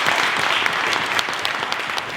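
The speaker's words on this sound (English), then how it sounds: "Give her a round of applause." Steady applause fills a parliamentary event on Black incarceration as a room of people claps continuously for a speaker, dense and even throughout.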